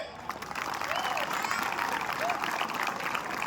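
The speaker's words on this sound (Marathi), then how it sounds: "आपल्या भारत देशासाठी जोरदार टाळ्या होऊन जाऊ दे" A crowd at a live comedy show claps enthusiastically for India, sustained applause filling the room while a voice speaks over it.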